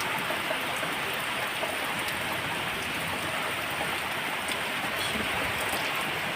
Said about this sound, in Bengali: প্রচুর বৃষ্টি হচ্ছে অনেকক্ষণ যাবৎ বৃষ্টি হচ্ছে প্রায় এক ঘন্টার মতো